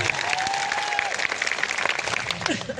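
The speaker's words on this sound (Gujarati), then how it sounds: "રતનસિંહભાઈ માટે આપણે જોરદાર તાળીઓ પાડી લઈએ" Crowd applause at a village political gathering for a village head who has joined the Aam Aadmi Party, a dense steady patter of clapping filling the whole stretch with a faint voice above it.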